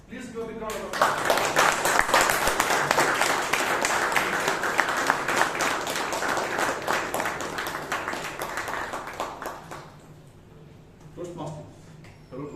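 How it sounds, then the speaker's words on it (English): A big round of applause from the audience at a Toastmasters club meeting in Bangalore, steady dense clapping for about nine seconds that fades out, with talking before and after. "Please give a big round of applause."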